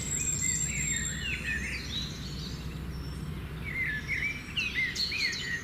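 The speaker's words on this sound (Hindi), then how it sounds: "देखें कितनी प्यारी-प्यारी पक्षियों की आवाज़ें आ रही हैं।" Several birds chirp and trill in short, bright bursts over a quiet outdoor background hum, their calls clustered at the start and again near the end, with no voices.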